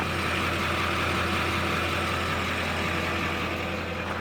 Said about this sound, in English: You can hear the 95 gallon per hour fast lift pump really isn't that loud unless you get right up on it.